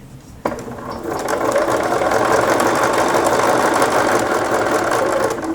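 A sewing machine stitches a bias cut dress, starting abruptly after a short pause and then running in a steady, loud, rapid mechanical whir and clatter with no talking.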